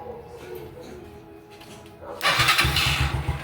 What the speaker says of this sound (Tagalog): umandar siya guys. So, okay yung starter motor